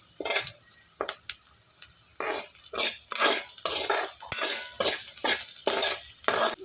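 Onions with salt get stirred in a pan, with repeated rhythmic scrapes and clinks of a spoon against metal over a soft sizzle, close and fairly loud.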